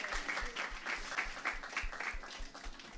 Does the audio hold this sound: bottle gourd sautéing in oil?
no